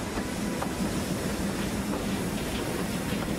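A train on the Hejaz railway rumbles steadily, its wheels clicking faintly over rail joints under a dense, continuous roar of carriages rolling past, with no voices.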